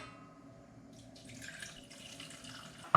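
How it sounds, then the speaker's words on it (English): Water pours into a sauce mixture as a soft, steady trickle, close and fairly quiet, with a slight splashy rise partway through. "Now we start with take the water, Enrico."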